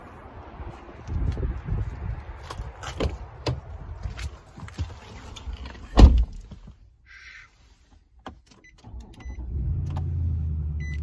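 The 5.6-liter, 390-horsepower engine of a 2019 Nissan Titan SV pickup fires up and settles into a steady, deep idle near the end, after quieter thumps and clicks from inside the cab.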